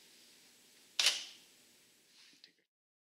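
A Sony camera shutter fires once, triggered by an IR release remote, a sharp close click followed about a second and a half later by a fainter mechanical tick, in an otherwise quiet room.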